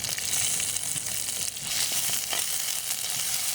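Curry leaves hitting hot oil among sautéing tomato, green chilli and garlic for cauliflower kootu, a loud dense crackling sizzle that holds steady throughout, close up, with no voices.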